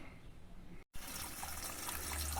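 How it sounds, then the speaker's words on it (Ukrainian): Water gushes steadily into a sprayer tank after a brief cut, a loud, continuous rushing splash with no talking. "Пішла вода."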